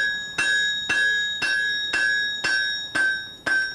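A hammer strikes hot metal on an anvil while a piece is drawn out at the forge, ringing in seven evenly spaced, bright metallic blows, each with a long singing decay, loud and close.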